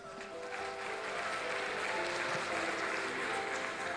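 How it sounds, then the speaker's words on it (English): At a South African film and television awards nominee announcement, the audience applauds the nominees, steady, even clapping that sounds slightly distant and fairly quiet. "Round of applause to our nominees."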